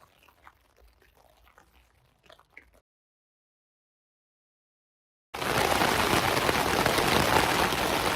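Heavy monsoon-like rain drums on a camping tarp beside a Scottish loch, a loud, dense, steady downpour that starts abruptly after a near-silent gap and fills the rest of the clip.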